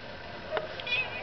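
A cat gives a short, soft meow or two nearby, brief and fairly clear against a quiet room.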